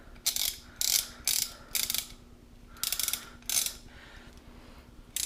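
A Lexivon torque wrench ratchets in short bursts of rapid, crisp clicking, about six separate runs with brief pauses between, close and clear with no talk.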